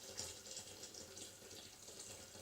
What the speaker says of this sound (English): I'm going to pour in my water up to my maximum level that I showed you